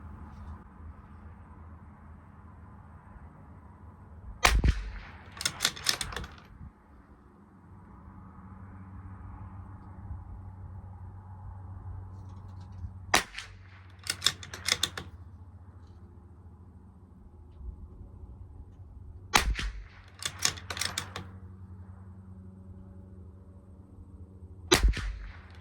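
Bergara B14R rifle fired at an outdoor long-range match-ammo test, sharp loud cracks in small groups of two or three, spaced several seconds apart over a steady low wind rumble.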